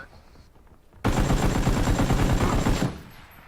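Burst of rapid automatic gunfire from the battle-royale game PUBG, loud and close, running continuously for about two seconds before cutting off.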